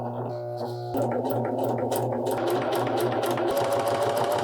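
Sewing machine stitching pockets onto a spring coat, a steady loud whirring run that starts with a brief lighter hum, then continues alone and unbroken.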